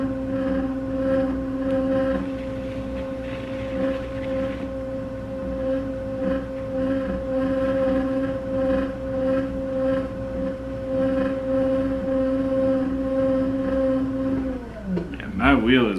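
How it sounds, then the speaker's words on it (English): An old pottery wheel runs with a steady, hollow motor hum and faint tonal whine, continuing under a person talking before winding down near the end. "my wheel is making some lovely sounds right there. It's an old wheel"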